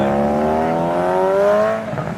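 A supercharged BMW E92 M3 with an S65 engine revs hard and close, its layered engine tone climbing steadily in pitch before easing off near the end.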